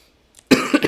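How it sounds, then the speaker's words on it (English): A man coughs sharply twice in quick succession after a brief silence, close and loud. "I'm about to start coughing all over the place"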